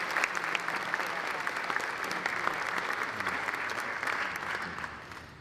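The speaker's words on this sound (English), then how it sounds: "one more big round of applause for Carly" Sustained applause from an audience at a high school academic awards ceremony, honoring an award winner; steady dense clapping throughout that tapers slightly at the end, with no speech over it.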